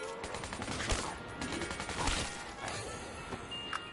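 Rapid automatic gunfire from a video game gun in Call of Duty zombies on the Ascension map, a dense continuous rattle of shots with sharp cracking bursts, fairly faint and uninterrupted by talk.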